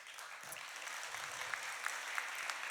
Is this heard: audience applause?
yes